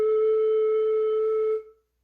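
A flute head joint played by itself sounds one low harmonic, a pure, steady hooty tone held for about a beat and a half before fading quickly, close and alone.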